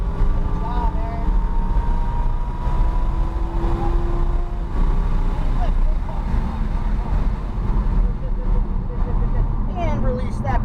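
A Lamborghini Huracan LP610 accelerates on a race track, its engine droning loud and steady throughout with rising tones, wind rushing past and an instructor talking over it.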